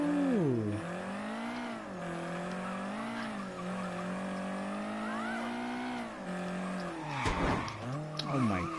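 A loud, high-revving video game car engine holds a steady whine that rises and dips in pitch, ending with a rough burst like a gear shift or skid.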